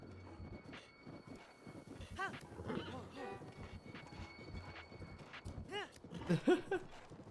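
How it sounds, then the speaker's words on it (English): Horse hooves clip-clopping in The Legend of Zelda: Breath of the Wild, a steady trotting rhythm with a brief whinny near the end, mixed with game sounds and voices talking over it. "We can steal on their horses."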